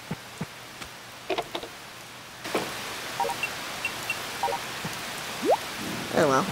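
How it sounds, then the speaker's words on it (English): In the Harvest Moon: Save the Homeland video game, a storm brings a soft wash of rain with scattered drips and small game chimes and tones, quiet and fairly close. "Ooh, it's storming!"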